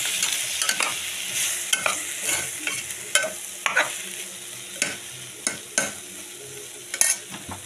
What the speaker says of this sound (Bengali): আমি আর একটু কষিয়ে নিই